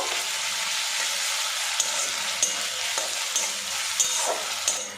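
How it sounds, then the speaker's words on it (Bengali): Ginger garlic paste fries with onions in a pan, giving a steady, close sizzle broken by periodic scraping taps of a spatula as the mixture is stirred. "আদা রসুন পেস্ট দিয়েছি বেশ কিছুক্ষণ নাড়াচাড়া করে ভেজে নেব"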